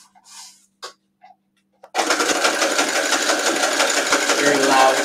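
A cheap, loud sewing machine starts after a few soft sounds and runs continuously, loud and close, with a steady rapid whir for several seconds.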